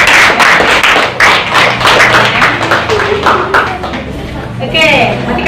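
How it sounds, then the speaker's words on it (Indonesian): Students in a school classroom clap after a presentation about a battery-powered lamp. The clapping comes in uneven bursts and is mixed with people talking nearby. "kasih tepuk tangan dulu"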